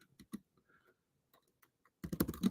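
Typing on a computer keyboard, with sparse, quiet key taps at first, then a dense, louder burst of rapid clicking near the end.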